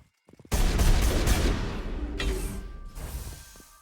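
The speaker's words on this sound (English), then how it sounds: "Incendiary rounds, here we go. Set people on fire." Gunfire from incendiary rounds in the Mass Effect video game, a loud sustained burst of rapid shots after a brief quiet start, then a second, slightly weaker volley, with no talk.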